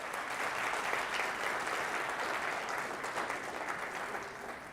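Audience at a fundraiser breakfast applauding the board of directors, steady close clapping from many hands that holds for several seconds, then begins to thin out.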